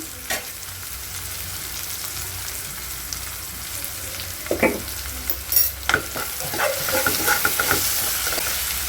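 Chopped tomato with salt frying in a pan and being stirred, a steady sizzle running throughout with scattered scraping clicks of the spoon that grow busier toward the end.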